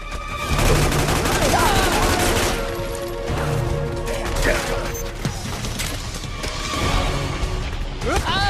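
Rapid automatic gunfire from a firefight in the video game Metal Gear Solid 4, sustained bursts with mechanical clatter and impacts, loud and close, with shouting voices and whistling tones mixed in.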